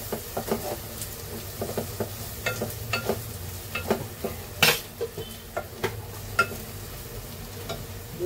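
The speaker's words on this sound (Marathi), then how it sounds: "मसाले टाकलेत ना, आता मिक्स करून घेऊ" Mutton and spices stirred and mixed in a pan, steady metal-on-metal scraping and clinks in a quick irregular rhythm over a low sizzle, close and clear with no talking.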